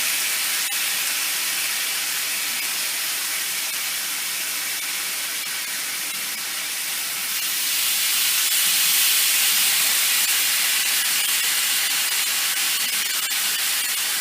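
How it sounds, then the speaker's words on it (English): Marinated chicken breasts on a grill give a steady, loud sizzle that hisses continuously up close, swelling slightly louder toward the end, with no voices over it. "A nice sizzle we got there."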